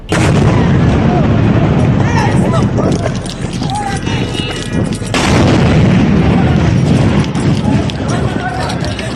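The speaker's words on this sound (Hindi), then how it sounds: "लेकिन तभी इस मीटिंग पर आसमान से एक बम आता है और सब कुछ उड़ा देता है।" A bomb dropped from the sky blasts a meeting in Qatar, heard as loud, dense booming and rumbling explosions with crackling debris and gunfire-like cracks that persist throughout, with voices mixed in.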